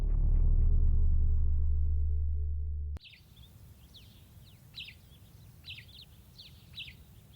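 A roadrunner in the wild desert gives a run of short, high chirping calls, repeated every second or so at moderate distance, after a loud low rumbling passage cuts off abruptly.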